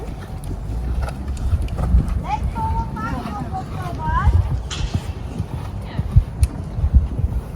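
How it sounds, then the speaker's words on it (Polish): Horse cantering during a riding training session, its hoofbeats thudding in a steady rolling rhythm under wind noise, with a trainer speaking over the riding. "zagalopuj na lewo, bardzo dobrze."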